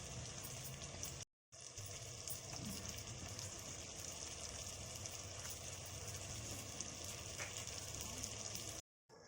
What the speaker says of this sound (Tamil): தக்காளி பழம் ஒரு சின்ன தக்காளி 2 போடுவோம் வதக்கிறதுக்கு